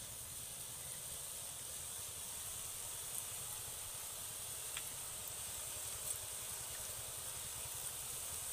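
Boondi batter made from besan fries in hot oil with a steady, soft sizzling hiss that carries on evenly throughout, quiet and unbroken, with no voices.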